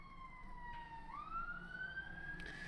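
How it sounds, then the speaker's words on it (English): A police car siren passes outside, a single wailing tone that rises and falls over a faint background hum, moderately distant and fairly quiet. "There's actually a police car coming past."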